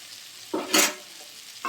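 A spice paste of ground cumin and coriander fries with potatoes and tomatoes in a pan, a faint sizzle marked by two or three short, close scraping stirs.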